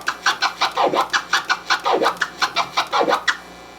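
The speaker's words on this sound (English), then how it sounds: "That's a flare and a chirp being alternated." Turntable scratch alternating flares and chirps on a vinyl record, a quick loud run of swooping scratch strokes in an even, bouncy rhythm, close up with no talk.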